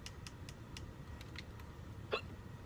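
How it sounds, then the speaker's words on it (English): A man in a gaming session lets out a single sharp hiccup near the end, heard close and fairly clear over faint clicky background noise. "I can't stop hiccuping"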